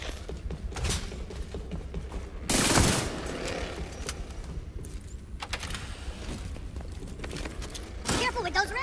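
Gunfire in the shooter game The Division 2: a sharp burst of rapid shots near the middle and another short burst near the end, over a low game ambience with scattered clicks and footsteps.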